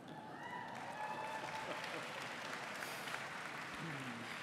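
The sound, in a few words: audience clapping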